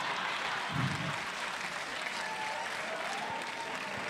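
An audience at a comedy show applauds steadily, a dense wash of clapping that holds at an even level throughout.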